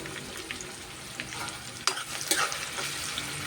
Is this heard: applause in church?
no